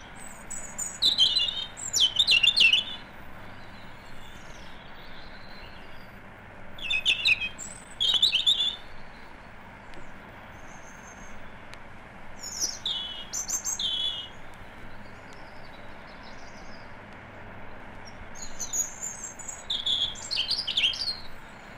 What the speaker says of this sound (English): The robin fell silent in July, but towards the end of August he begins to sing again with a new and melancholy autumn song.